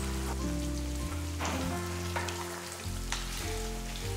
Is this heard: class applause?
no